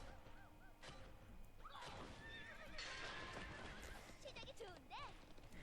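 A horse in the game Alicia Online gallops with clip-clop hoofbeats and gives several whinnying neighs, moderately close, alongside game sounds and bursts of chatter.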